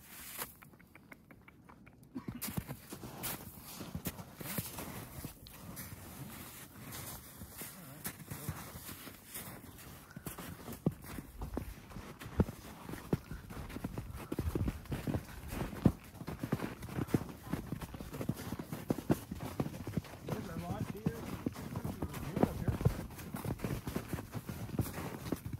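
A young horse carries a rider along a trail, its hooves clopping in a steady close walking rhythm with faint creaks and rustles throughout.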